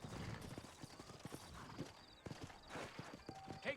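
Horse hooves clip-clopping on a town street in the Red Dead Redemption video game set in New Austin, a steady rhythmic patter of several horses at a walk, with faint background game ambience.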